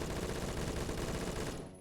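HK416 rifle in Phantom Forces firing a sustained full-auto burst, rapid evenly spaced shots blurring into a dense loud rattle that cuts off after under two seconds, with no talking.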